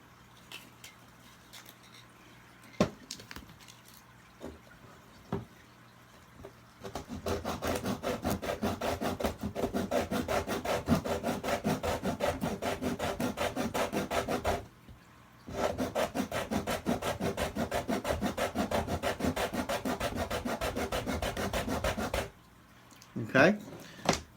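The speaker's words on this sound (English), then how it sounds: "we don't have to saw to town on this thing, just enough" Hand saw cutting through a wooden dowel for a DIY overhead camera stand, long runs of rapid rhythmic rasping strokes close up with a brief pause between, after a few taps and clicks at the start.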